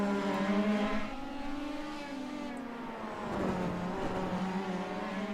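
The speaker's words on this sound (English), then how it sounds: "You can hear them just smacking the cars over that curb." Race cars on the Long Beach street circuit in a Formula 1-style championship round, engines droning continuously while they bang over a curb, loud and close with a steady, shifting engine tone throughout.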